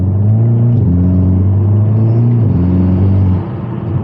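A Hyundai Kona N with a turbocharged engine and dual-clutch transmission pulls hard from up close, its drone climbing in pitch and dropping twice at quick shifts, then easing off at the end.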